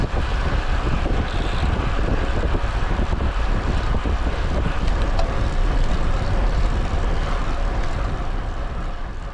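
Strong wind buffets the microphone during an evening criterium bicycle race, a loud continuous low roar and rush that fills the whole stretch with no voices.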